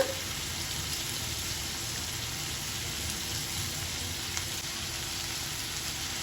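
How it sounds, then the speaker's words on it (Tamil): Onions and tomatoes sauté in a pan for Andhra-style onion chutney, producing a soft, even hiss that continues without a break at low volume; no voice is heard. "பாருங்க இந்த அளவுக்கு நல்லா வதங்கிடும்"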